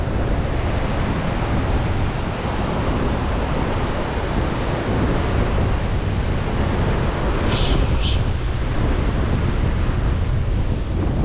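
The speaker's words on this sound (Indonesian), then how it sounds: "Ombak kencang ini, anginnya kencang sekali ini." Strong wind roars across the microphone while ocean surf crashes continuously, loud and close, with no clear speech, on a coastal road in West Seram, Indonesia.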